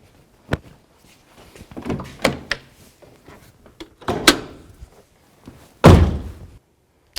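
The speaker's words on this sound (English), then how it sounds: "Just make sure it latches." The hood of a 2000-2006 Chevy Tahoe is dropped shut several times, each close giving a sharp metallic thunk and latch slam, with quieter handling noises between the hits.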